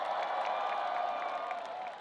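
Concert audience at a Korea University festival show applauding and cheering, a dense, steady wash of clapping and voices that holds evenly throughout.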